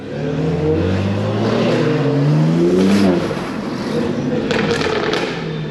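A loud BMW G80 M3 engine revs up on New York City streets, its pitch climbing steadily before dropping off, then rumbling on with road noise.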